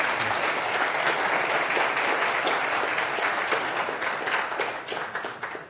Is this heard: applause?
yes